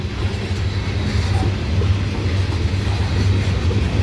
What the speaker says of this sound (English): Here we have a GE powered undercarload of coal heading east towards Carter's Bay